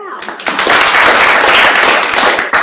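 An audience at a labor and employment program breaks into applause, with dense, loud clapping that continues for a couple of seconds.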